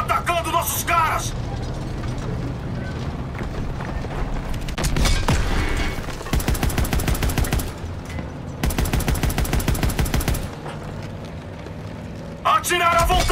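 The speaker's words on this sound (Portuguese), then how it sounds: "Tiros de armas leves. Estão atacando nossos caras." Small arms gunfire in a Call of Duty WWII battle, with sustained bursts of rapid automatic shots and scattered single reports, loud and close, layered over game music and shouted voices.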